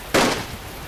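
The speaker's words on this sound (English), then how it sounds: "Aiming on intuition alone, he squeezed the trigger." A single sharp gunshot crack from the video game The Fruit of Grisaia, loud and close, followed by a brief fading tail.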